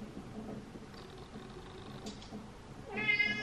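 A large house cat lets out a short meow near the end, loud and close, over quiet household background noise.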